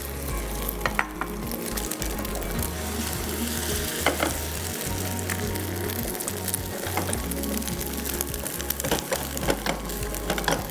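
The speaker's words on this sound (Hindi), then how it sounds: "बाकी का अंडा भी इसी तरीके से फ्राई कर लेते हैं" Eggs frying in a pan over a low flame, a steady close crackling sizzle running throughout with occasional scraping and clicks of a utensil, no talking.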